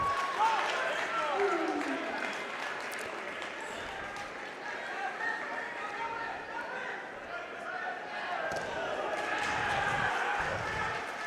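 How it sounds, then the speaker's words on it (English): Spectators at a boys' varsity high school wrestling tournament let out a rising collective 'ooh' amid a murmuring crowd and scattered clapping, with a commentator's voice running over the hall noise. "You heard the whole crowd go, ooh."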